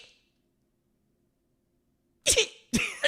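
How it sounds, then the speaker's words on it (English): A single sharp sneeze followed quickly by a second burst, loud and close after a near-silent pause, with no talk over it. "I'm gonna sneeze."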